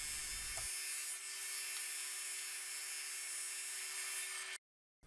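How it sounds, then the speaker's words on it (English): A board sander runs on padauk boards for guitar sides, a steady whining hum with a constant tone and broadband hiss, loud and unbroken for about four and a half seconds before cutting off abruptly. "Let me run these through the board sander and we'll clean them up"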